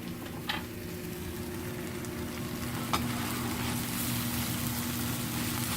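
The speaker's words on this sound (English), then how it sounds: "Spinach to the frying pan, and we're gonna cook it up for another 2 or 3 minutes." Spinach frying in a frying pan, a steady soft sizzle running evenly throughout with a couple of brief brighter crackles, close and continuous with no talking.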